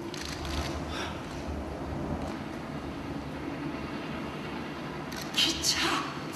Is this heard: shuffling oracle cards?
no